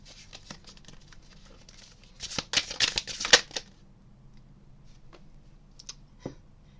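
A tarot deck is riffled and shuffled in a quick close burst of crisp, papery flutters and snaps in the middle, then a few faint card taps and clicks follow in quiet.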